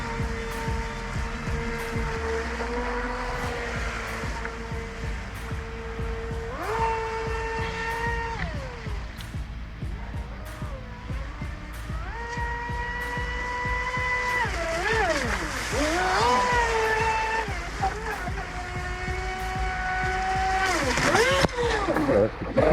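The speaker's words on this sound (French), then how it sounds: "on peut aller naviguer tout doucement si on veut, et progressivement accélérer et le faire déjauger" A Traxxas Disruptor RC boat runs on the water, its small electric motor whining steadily and rising in pitch through several throttle surges, near and continuous, with someone talking over it.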